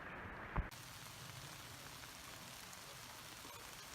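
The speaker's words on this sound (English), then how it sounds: "Continues to rain on us." Steady rain falls on hikers on the Appalachian Trail, a soft, even hiss of drops hitting surfaces that continues without a break after a brief rustle at the start.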